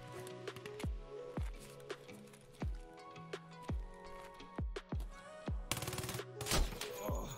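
In Escape from Tarkov, a string of sharp, loud gunshots fires at irregular intervals, each followed by a short booming echo, and ends in two dense bursts of rapid fire.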